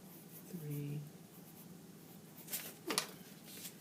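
Pencil or pen scratches on paper while drawing, with a few quick, brisk strokes near the end over a faint room hush, preceded by a short, low vocal sound.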